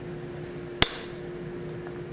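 Single sharp ball peen hammer strike on hot steel while forging oak leaf lobes, a clear ringing metallic blow standing out over a steady low shop hum.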